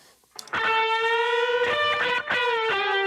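An electric guitar solo drenched in reverb rings out loud and alone, sustained distorted notes sliding and holding with brief breaks between phrases.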